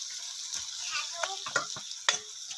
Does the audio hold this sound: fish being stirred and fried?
yes